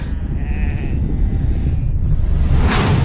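A sheep bleats near the end over dense, loud, rumbling noise that fills the whole stretch.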